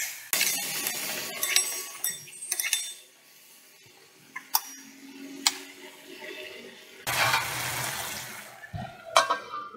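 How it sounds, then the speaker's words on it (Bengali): Water is poured into a cooking pot holding ash gourd and chickpeas, giving a couple of bursts of splashing and gurgling with clinks of a utensil against the pot in between. "হাফ কাপের মধ্যে জল দিলাম"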